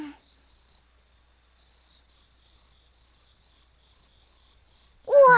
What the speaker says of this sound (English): It's grasshoppers. You can hear them on a quiet night.